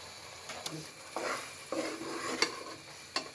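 Tomato paste and spices sizzle quietly in a pan while a spoon scrapes and stirs in several distinct strokes, with no talking.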